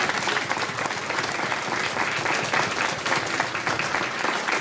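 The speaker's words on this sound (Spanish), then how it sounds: "sí, es para aplaudir" Sustained audience applause fills the room at an event for a school music ensemble, a dense, steady wash of many hands clapping at even loudness with no voices.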